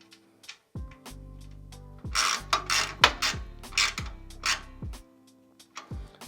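A ratcheting wrench cranking down a nut while installing a GLSS driver side pro builder, giving sharp repeated clicks in quick bursts with metallic ringing between strokes, close and clear.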